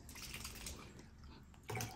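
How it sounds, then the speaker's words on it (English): Liri water poured into a glass test tube to rinse it in a home water-testing demonstration: a steady close splash and trickle that swells into a louder gush near the end. "Then I have to rinse the test tube with the Liri water first."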